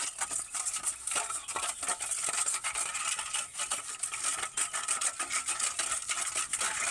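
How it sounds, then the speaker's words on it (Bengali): Sugar, white oil and egg are mixed together in a bowl, making continuous close scraping and rubbing strokes in a quick uneven rhythm, with no talk. "এবার আমি এই সব উপকরণগুলোকে একসাথে খুব ভালো করে মিশিয়ে নেব।"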